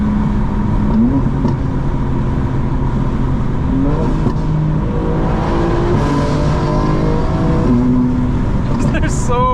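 A 900 hp 2025 BMW M4 Competition xDrive engine pulling hard through the gears, rising revs with a brief drop at each shift from fourth to fifth, loud inside the cabin under some talk.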